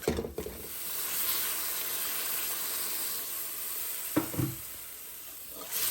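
Pisupo, canned corned beef with plenty of onions, fries in a pan with a continuous close sizzle. Brief scraping stirs come at the start and again near the end.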